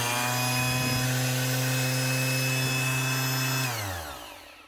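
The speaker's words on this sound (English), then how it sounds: "You're not going to get a more heavy duty industrial sander than that there." A thirty-year-old Makita 9045N half sheet sander, heavy duty and industrial, runs close up with a loud, steady motor hum and buzzing vibration, then winds down as it is switched off near the end.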